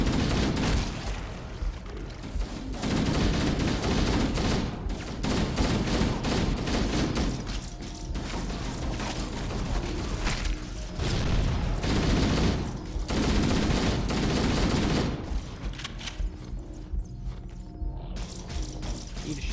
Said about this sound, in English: Eat a shotgun shell.